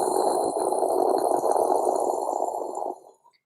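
Breathy, rushing exhale forced through a constricted throat to imitate an oceanic sound, a steady close-up hiss and roar lasting about three seconds before fading out, with no words spoken.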